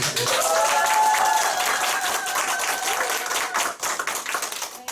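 Applause from an audience at a Nu Skin group business meeting, dense clapping that stays loud throughout, with some voices and crowd noise mixed in, tapering slightly near the end.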